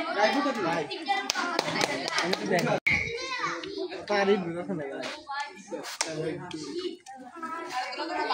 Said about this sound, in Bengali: তার জন্য সবাই হাততালি